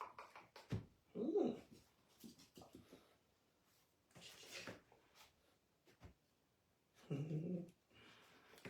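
A young female puppy gives low growls and whimpering noises in short bursts separated by quiet gaps, close and fairly soft, with some faint shuffling between.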